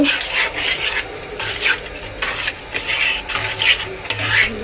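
Carrot halwa with melting sugar and milk powder is stirred in a pan in steady, rhythmic scraping strokes, close and fairly loud, with a faint sizzle underneath and no voices.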